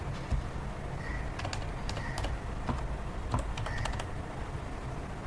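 Someone types on a computer keyboard at a command line, a run of quick, light, irregular key clicks close by with a few louder taps, over quiet room noise and without speech.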